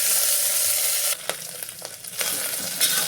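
Okra (lady's finger) and sliced onion fry in a pan with a bright, steady sizzle, briefly dipping while being stirred before the crackle picks back up.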